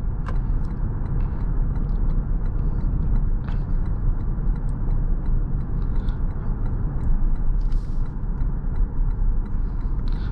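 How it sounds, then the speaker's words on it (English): A 2023 Lexus ES 300h F Sport hybrid with a CVT driving on the road: a steady low drone of road and drivetrain noise inside the cabin with a faint whine, continuous and fairly loud, no talking. "You hear that CVT whine along all day"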